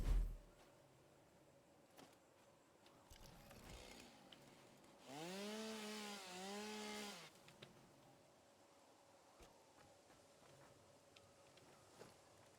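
A chainsaw in the game Satisfactory revs to cut down a tree, a harsh wavering whine that lasts about two seconds, moderately loud, amid quiet footsteps and faint game sounds.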